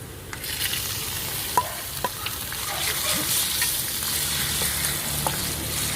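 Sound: pork belly frying and being stirred with shallots in a pan

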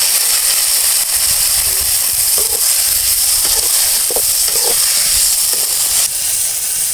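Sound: garlic, chillies and tomato sautéing in pan

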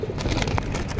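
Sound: pigeons

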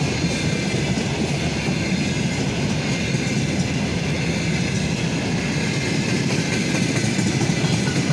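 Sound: Russian Railways train passing on railway tracks

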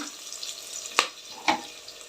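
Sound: curry leaves frying in oil for lemon rice

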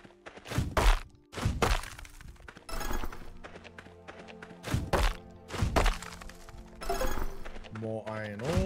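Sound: hitting and breaking stones with a tool in the video game Potion Permit

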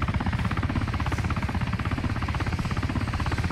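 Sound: helicopter in the video game DayZ

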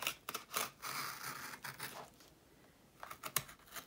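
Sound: cutting into a journal page

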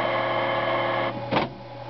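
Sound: broken printer running

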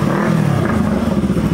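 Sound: loud motorcycle engine revving in a street

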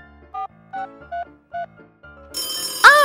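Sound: telephone ringing

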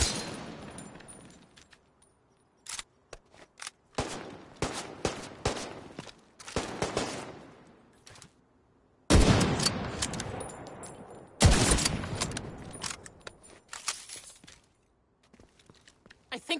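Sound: gunfire in a video game

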